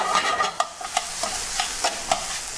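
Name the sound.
sautéing broccoli in a pan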